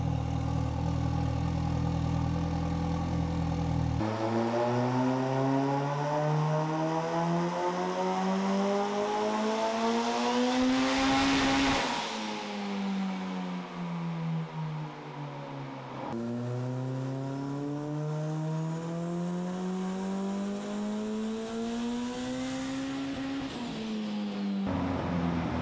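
A 600 HP turbocharged car engine running 52 psi of boost roars loud and close, its pitch climbing hard through two long accelerating pulls separated by a brief gear-change dip.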